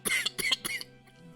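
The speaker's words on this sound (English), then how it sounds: "I don't like the sounds of that cough here" A giant character in a Dungeons & Dragons session lets out three harsh, rasping coughs in quick succession, close and loud, with a quiet tail afterward.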